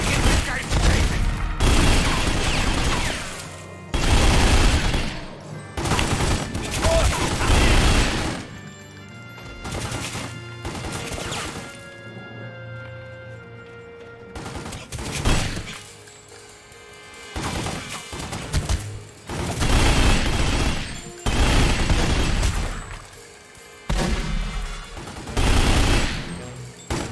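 Gunfire in The Godfather video game: repeated loud bursts of rapid shots separated by quieter gaps, continuing throughout, with some voices heard between the volleys.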